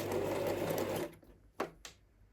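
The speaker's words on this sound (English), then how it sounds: "slightly bring this down and turn on your machine" Brother sewing machine running with a steady, fast motor whir and needle clatter for about a second, then stopping, followed by two short clicks nearby.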